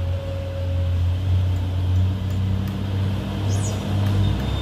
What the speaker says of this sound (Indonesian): Wush, trailer mundur bosku, bahaya ya.